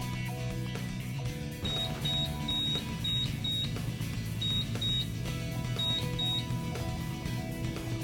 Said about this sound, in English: When the reader's done with the first card, it'll stop beeping and flash red and blue.